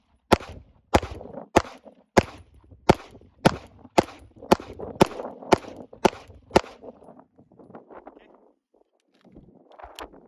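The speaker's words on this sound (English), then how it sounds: "First magazine is going to be just slow controlled shots" Slow, evenly spaced gunshots from a CZ pistol, about a dozen sharp loud cracks in steady rhythm, then a few seconds of quieter handling noise after the firing stops.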